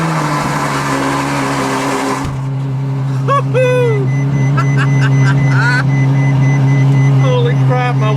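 A car engine cold-starts, rising from a steady rumble into a loud idle, with people talking over it.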